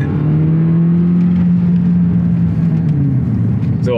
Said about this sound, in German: er fährt als Elektro an und der Benzinmotor geht an